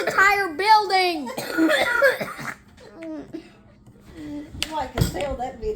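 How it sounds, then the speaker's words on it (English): A girl coughs hard in rough, hacking bursts close to the microphone, mixed with childish laughter and giggling and a little speech, then goes quieter before a final sharp cough. "She coughed up a loogie."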